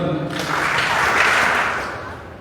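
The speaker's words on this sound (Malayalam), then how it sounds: "കെറൂബി 3 തവണ കൈയടിക്കണം." The Cherubim group in a church gathering bursts into clapping, a short, dense swell of many hands that rises and then fades.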